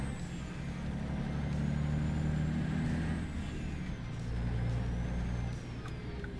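Loud, steady truck engine drone from a big rig in the American Truck Simulator game, with deep low rumble swelling and easing over a continuous run, heard alone without talk.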